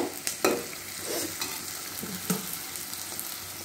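Cauliflower frying in a pan, an even sizzle broken by several clunks and scrapes of a spoon stirring, fairly close, with no talk.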